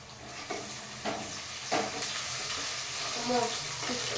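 A small spoon stirs frying onions and biryani ingredients in hot oil, a continuous close sizzle broken by several light scraping knocks as the mixture is turned.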